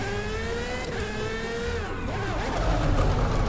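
A car engine revs in Forza Horizon 5 on a drift track, its pitch climbing steadily, dipping briefly and then rising again as a loud, close, continuous roar.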